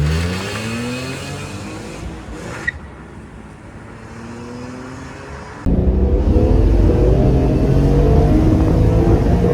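A BMW M3 E46 with a stock exhaust pulls through the gears, engine note rising and falling, then opening up louder under hard acceleration, heard close from inside or beside the car.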